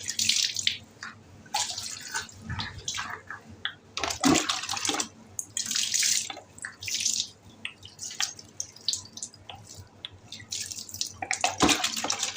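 Tap water runs and splashes onto potted plants being watered and washed, a close, steady gushing and spattering that keeps stopping and starting with brief gaps, no one talking.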